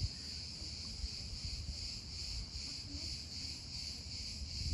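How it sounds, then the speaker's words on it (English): Cicadas call in summer countryside trees, a steady high-pitched buzzing drone that pulses gently and continues without pause, fairly faint, with no voices. "Like these cicadas in the countryside."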